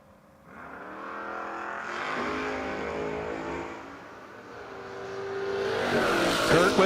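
A 1979 Camaro lines up against another drag car in a no-box 660 shootout, engines swelling from a rumble into a loud, rising launch roar that builds toward the end. No talk is heard.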